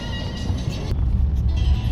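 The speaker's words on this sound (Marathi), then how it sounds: "तिथे गाडी यायला लागली" A car rumbles along a road nearby, a steady low engine drone with road noise that holds through the short moment.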